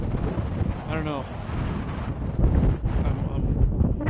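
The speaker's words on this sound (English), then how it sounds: "Man, it's really windy." Strong outdoor wind of about 35 miles an hour buffets the microphone in loud, rumbling gusts throughout, with a person's voice briefly audible beneath it.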